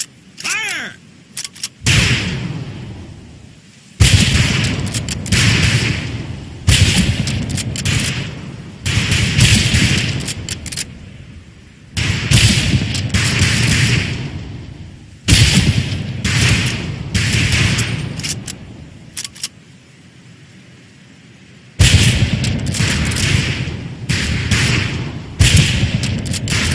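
Rifle volleys crack across a training range in the Medal of Honor: Pacific Assault video game, loud and near, in repeated bursts of sharp shots with thuds, broken by brief lulls.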